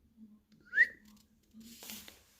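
A person whistling a short, faint rising note, alone over a quiet low hum.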